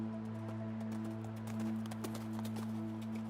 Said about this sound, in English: the clip-clop of horses' hooves filled the air